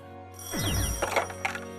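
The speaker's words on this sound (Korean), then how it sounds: "다급히 걸려온 전화 한 통" A telephone rings loudly and close by with a steady electronic bell tone, its repeated trill layered over a swelling music-like sound effect, with no voices.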